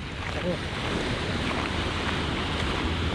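A boat motor hums on open water, a steady low drone mixed with wind noise and the wash of waves.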